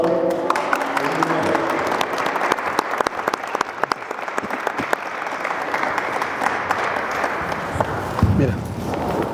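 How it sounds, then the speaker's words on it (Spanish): Sustained audience applause at a lecture fills the room, loud and steady for the full length with scattered voices mixed in and a brief burst of low chatter near the end. "Un aplauso"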